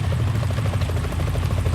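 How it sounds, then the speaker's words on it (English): Helicopter rotors in Metal Gear Solid 2, a loud steady rhythmic thudding with a deep whirring engine drone, close and continuous, no voices. "Is that a chopper I just heard?"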